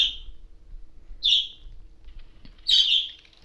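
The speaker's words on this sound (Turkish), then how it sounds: "Oradan kuşlar bağırıp duruyor da onlara bağırdım." Three bright, short bird calls from a video game ring out at intervals against near silence, clear and fairly close.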